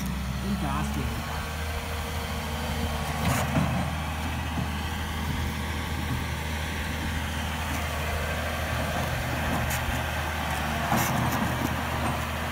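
Steady low engine drone of a Logset 6F forestry machine, operated by radio remote, running continuously and fairly loud with little change in pitch, while someone talks over it.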